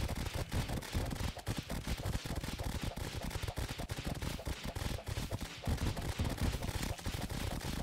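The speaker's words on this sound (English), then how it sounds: "We're doing more damage with the firecracker." Rapid crackling bursts from the firecracker summon weapon attacking enemies in the Terraria video game, a dense, continuous barrage of sharp pops and explosive snaps layered with game effects, loud and sustained throughout with no pause.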